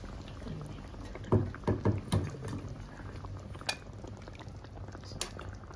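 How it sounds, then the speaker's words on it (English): Tofu curry gravy base in Sri Lankan style bubbling in a pot, a few soft plopping bursts over a low simmering hiss, fairly quiet with no talk. "Now the gravy base is bubbling"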